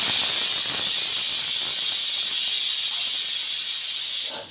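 A pressure cooker cooking dal whistles in a home kitchen, a loud, steady, high steam hiss that holds for over four seconds and then cuts off abruptly.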